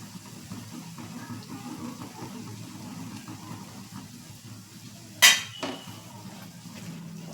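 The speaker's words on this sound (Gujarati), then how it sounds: "અને તેને બરાબર મિક્સ કરી લેશું" Matar paneer gravy stirred in a pan, quiet soft scraping over low background with one sharp metallic clink of the spoon against the pan near the end, no talk.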